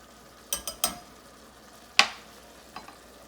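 Garlic and paprika frying in a pan are stirred, with a quiet sizzle broken by a few sharp scrapes and knocks of the spoon against the pan, close and otherwise without talk.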